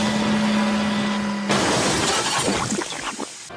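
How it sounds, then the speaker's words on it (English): A toy train's flatbed in a Thomas and Friends scene crashes into a stack of roofing slate: a sudden loud smash after a steady hum, then scattered clattering debris fading out. "His flatbed biffed into the sidings to a stack of roofing slate and"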